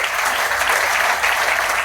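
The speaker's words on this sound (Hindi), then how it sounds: "एक बार जोरदार तालियां बजाऊंगा।" Audience at a business seminar clapping loudly and steadily, a dense continuous burst of applause from a crowd that fills the room and lasts the whole moment.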